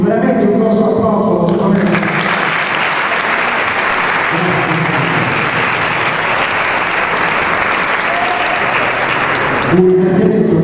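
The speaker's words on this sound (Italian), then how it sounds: "Quindi veramente un grosso applauso." A big round of audience applause for sponsors at an Italian volleyball team's season presentation, dense clapping that swells in after a brief voice and holds loud and steady before fading as speech returns.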